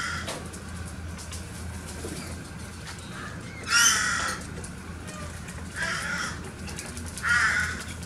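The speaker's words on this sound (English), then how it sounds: "There's a crow in there." Harsh caws from a crow in an outdoor setting with a brush turkey nearby, three separate calls spread over several seconds against steady background noise.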